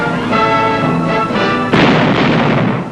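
A Monitor riverine landing craft, a shallow-draft fire support vessel armed with 40mm and 20mm cannon, an 81mm mortar and machine guns, fires a single loud, sharp cannon blast after a steady droning hum, then the boom fades.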